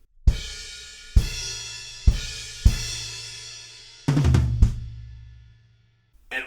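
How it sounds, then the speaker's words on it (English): Drum kit crash hits played down onto the toms in a song section: four loud crash-and-tom strikes ring out one by one, followed by a quick tom roll and a decaying wash of cymbal. "instead of coming onto the snare, we go down onto the toms"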